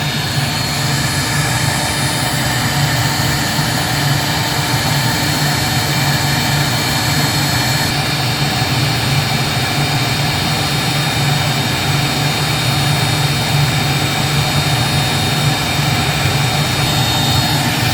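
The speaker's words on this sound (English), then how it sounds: "you can see the 1/8 inch bit is running the pocket right now, and it's just conventional run" A CNC router fitted with a 1/8 inch bit cuts a pocket in EVA foam decking while a vacuum runs, making a loud, steady, unbroken roar that holds close and constant throughout without any talk.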